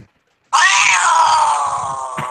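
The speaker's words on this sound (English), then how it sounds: "There it is, the angry kitty." A loud, harsh angry-cat screech sound effect bursts in after half a second of silence and holds as a sustained wailing yowl that slowly eases off, with faint low murmuring underneath.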